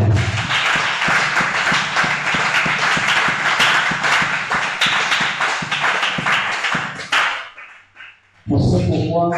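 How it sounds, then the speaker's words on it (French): A church seminar audience claps together in loud, rapid, rhythmic applause that fills most of the stretch, then fades out into near silence before a voice begins speaking at the end. "acclamons pour nous-mêmes"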